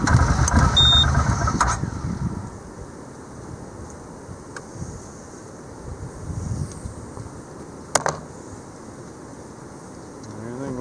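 A 2020 CFMOTO Cforce 800 ATV engine runs with a close, rough low rumble for about two seconds, then settles into a much quieter idle hum under wind noise, with a brief sharp knock near the end.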